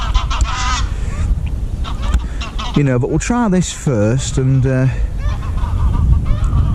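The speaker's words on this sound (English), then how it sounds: "We've got a few geese coming over now" Several geese honk as they fly over Lindholme Lakes, a run of loud, nasal calls in quick succession that stands out over steady outdoor noise, with someone talking before and after.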